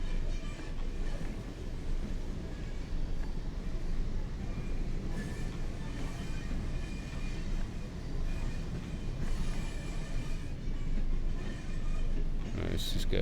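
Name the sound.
Class 101 train running on rails, from a train simulator video game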